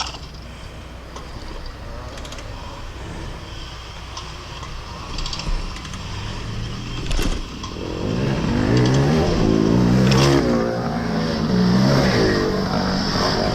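Vintage cross-country race motorcycle engine opened to full throttle, a loud rising engine roar swelling from about the eighth second over a rough, noisy background, with a sharp bang just before.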